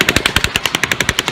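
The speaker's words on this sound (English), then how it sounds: "theories which mistake the supersonic cracks for other sounds contradict each other" Rapid supersonic bullet cracks from the Las Vegas Route 91 shooting recording come as a fast, evenly spaced string of about a dozen loud, sharp reports in under two seconds.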